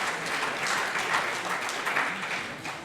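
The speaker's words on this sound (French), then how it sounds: "On l'applaudit chaleureusement." A conference audience at a round-table session warmly applauds a panelist, steady dense clapping throughout, swelling slightly in the middle and tapering off toward the end.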